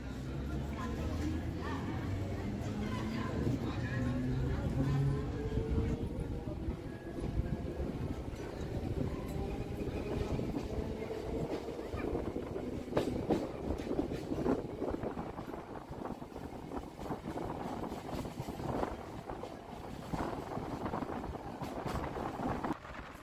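A local passenger train on the Sealdah–Namkhana line in West Bengal runs with a steady, loud rumble and rattling wheel noise throughout, with shifting low tones and muffled voices in the carriage.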